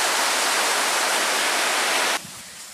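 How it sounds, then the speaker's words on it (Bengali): Rain falls alongside a mountain waterfall at Kawazu Seven Waterfalls in Shizuoka, Japan, as a loud, dense, steady rush of water that drops off sharply near the end. "বৃষ্টির শব্দ পাহাড়ি ঝর্ণার সাথে যোগ করেছে নতুন ছন্দ"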